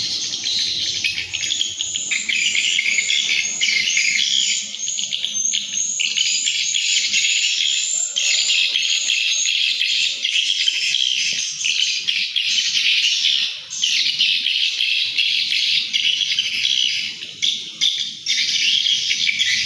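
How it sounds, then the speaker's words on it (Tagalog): A dense, continuous chorus of high-pitched chirping fills the air steadily throughout, with no talking and only faint low background rustle. "Sabi kong daming ibon."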